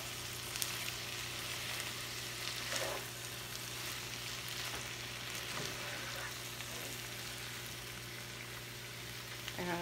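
Gnocchi warming in a pan give a soft, steady sizzle and faint crackle, low and continuous, with a constant background hum and occasional light scraping.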